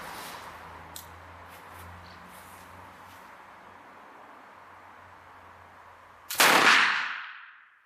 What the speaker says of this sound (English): Let's check what happens at a real point-blank range.